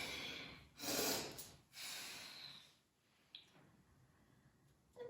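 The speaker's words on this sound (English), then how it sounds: "Maybe starting to engage your Ujjayi breath here" Ujjayi breathing during an active vinyasa yoga flow: slow, airy breaths drawn in and out through the nose with a soft throaty hiss, several rising and fading breaths, close and alone.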